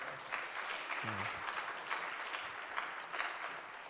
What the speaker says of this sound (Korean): 박수 한번 격려합시다.